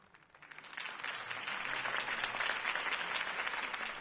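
Dense crowd applause after a campaign speech by Harvey Dent in a Batman Telltale game, swelling in within the first half second and holding steady and loud to the end.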